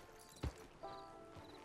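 In the Red Dead Redemption 2 video game, a horse's hooves give a couple of faint, soft clip-clop thuds over a quiet, humming game soundscape.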